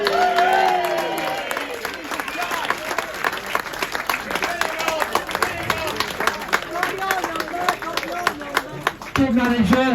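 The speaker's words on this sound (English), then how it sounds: "a little polite applause might not go amiss" Polite applause fills a room at an end-of-season team dinner, a dense, steady patter of many hands clapping close by that holds throughout, with a voice starting to speak near the end.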